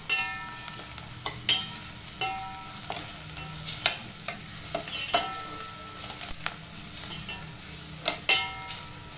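Spice paste fries in oil in a pan for a spinach dal, giving a continuous crackling sizzle with sharp spoon clinks and scrapes recurring every second or so, close and fairly loud.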